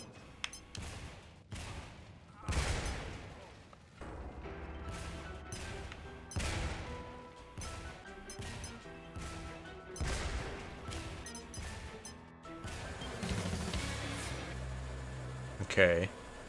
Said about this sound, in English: Okay, so I have three explosions, and I can reset them by hitting other explosive barrels.